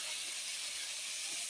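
Cauliflower sizzles in a pan as it is stirred, giving a steady, close, continuous hiss that does not change throughout.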